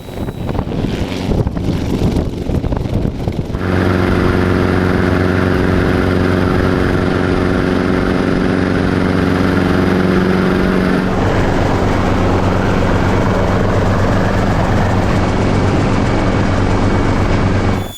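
A Schweizer S300 (269B) helicopter running on the ground at an airport's north hangars, its engine and rotors making a loud, continuous thrumming whine with heavy wind buffeting on the microphone at first.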